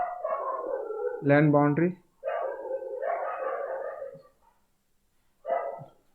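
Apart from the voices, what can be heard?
street dogs barking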